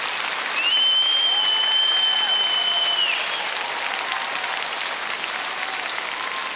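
Concert crowd at an anniversary celebration delivering a sustained ovation for a singer, thick steady clapping with a loud whistle held over it early on and a few fainter whistles and shouts above the applause.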